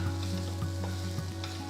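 Mashed boiled potatoes and spices sizzle in a hot pan while being stirred, a steady quiet crackle with a few soft scraping stir sounds, no voices.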